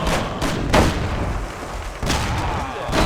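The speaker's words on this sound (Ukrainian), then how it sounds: "Диви, диви, стріляє." Rifle shots from an enemy in the game Mafia: The City of Lost Heaven, a few loud broadband cracks at about 0.7 s and 2.1 s over a dense, noisy game background.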